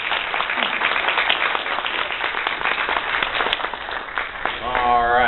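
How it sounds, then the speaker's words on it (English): An audience applauds answers given at a guest talk, dense clapping throughout with a voice starting to speak at the end. "How about a round of applause for those amazing answers?"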